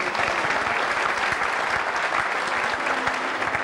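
Audience at a showband concert in Newry Town Hall applauds a singer with dense, sustained clapping at even loudness throughout, and no voices over it.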